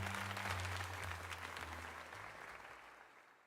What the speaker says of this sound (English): let us give another heartfelt round of applause to Nia.